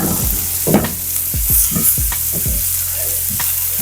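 The white parts of green onions sizzle in a hot pan while a utensil scrapes and stirs them in repeated knocking strokes, loud and close over a constant frying hiss.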